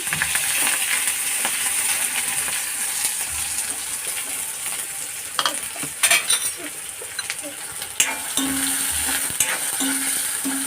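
Chopped onion sizzles steadily in a pan while a spoon stirs it, with a continuous frying hiss broken by several metallic scrapes and clinks against the pan, near and fairly loud.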